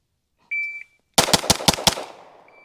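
Rapid string of about six loud, sharp pistol shots from a Staccato HD P4 at a shooting range, fired close together right after two electronic timer beeps.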